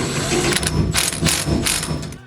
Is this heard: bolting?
yes